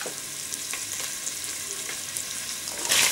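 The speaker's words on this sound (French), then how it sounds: "Vous les faites revenir aussi, voilà." Lardons brown in a pan for a quick peasant soup, giving a constant close frying hiss with soft stirring scrapes, swelling into a louder crackle at the very end; nobody talks.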